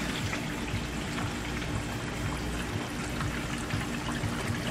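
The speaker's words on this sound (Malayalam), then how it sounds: "വെള്ളം ചാടുന്നത് നമുക്ക് ഇവിടെ കാണാൻ പറ്റുള്ളൂ" Steady rushing, splashing water runs continuously at moderate loudness as a pump churns it through a homemade filter in a drum fish tank, with no voices.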